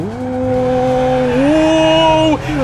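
A Ford Crown Victoria in the BeamNG driving game drifts with its engine droning steadily and rising in pitch, tires squealing loudly throughout before the sound drops off abruptly near the end.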